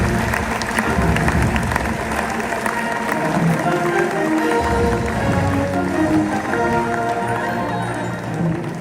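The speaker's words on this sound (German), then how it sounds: "Ich bitte um einen großen Applaus für unsere Nationalratspräsidentin Maja Riniker." A large audience applauds at the closing ceremony of the Lucerne 2025 CISM Military World Winter Games, dense sustained clapping that fills the hall with a faint murmur of voices underneath.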